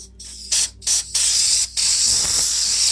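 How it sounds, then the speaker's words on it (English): An air compressor blows debris out from between the keys of a Yamaha stage piano keyboard, with loud, close hissing bursts, a few short puffs followed by a longer continuous blast. "Another thing that works really well, as it did before, is the air compressor."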